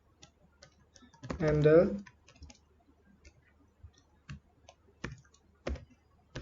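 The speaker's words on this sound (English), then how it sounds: "we're just going to type real quick" Someone types on a computer keyboard with sparse, crisp clicks and key taps spread across the moment. A brief spoken word interrupts near the start.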